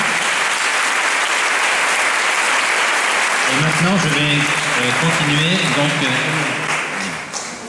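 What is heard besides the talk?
audience applause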